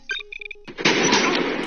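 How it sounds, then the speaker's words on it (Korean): A gunshot in a Squid Game drama scene, a sharp blast that decays into a sustained noisy roar, following a brief melodic electronic tone sequence. "그러자 울리는 총소리."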